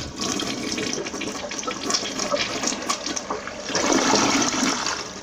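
A toilet flushes close by, a loud rushing swirl of water that swells again toward the end as the bowl refills, with no voices.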